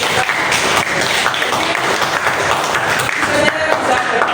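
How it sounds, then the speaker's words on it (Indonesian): Audience clapping at the close of a school teacher-training session, fairly loud and dense across a few seconds, with some voices mixed in. "Ya, tepuk tangan lagi."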